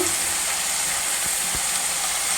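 Spinach greens dropped into hot oil in a pan for a simple keerai poriyal, giving a steady, close sizzle with no talking.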